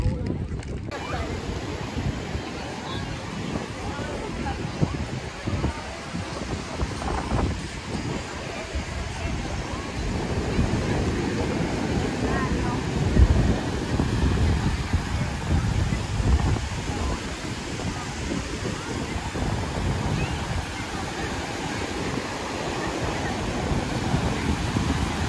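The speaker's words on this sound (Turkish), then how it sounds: "Rüzgar olduğu için sesim çıkar mı bilmiyorum" Wind gusting across the microphone at an outdoor Fourth of July outing by the water in the United States, a steady low rumble and buffeting throughout with faint surf underneath.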